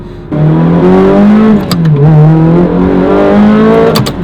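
Engine of a manual Ferrari Challenge Stradale, loud and close, droning steadily under acceleration, then dipping briefly as a gear shifts before pulling strongly again, with a short sharp crackle near the end.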